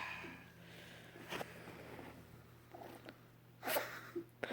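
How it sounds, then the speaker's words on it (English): A pet cat sneezes, producing a couple of brief, soft, sharp bursts in a quiet room, faint and close, with light breathing between them. "It sounded that was like a kitty sneeze."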